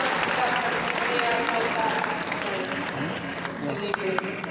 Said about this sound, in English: Please, a round of applause, ladies and gentlemen